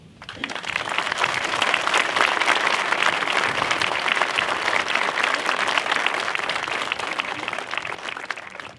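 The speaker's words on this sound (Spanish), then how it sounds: "Para ellos y para todos vosotros pido un fuerte aplauso." A large audience gives a loud, sustained round of applause at a 50th-anniversary event for the Porma reservoir, dense clapping swelling quickly and holding steady before fading at the end.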